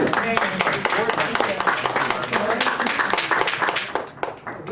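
Audience applause at a board of education meeting, a room of scattered claps sustained for several seconds with a voice speaking over it, tapering near the end.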